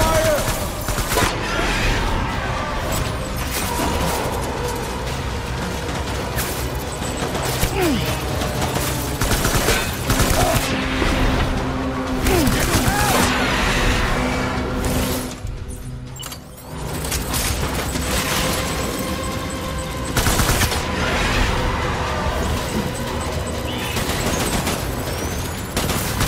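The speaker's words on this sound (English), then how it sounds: "Open fire!" Heavy, sustained gunfire rattles through a Death Stranding combat scene, with bursts of automatic fire, scattered shots and clanking mechanisms that stay loud almost continuously, dipping only briefly midway.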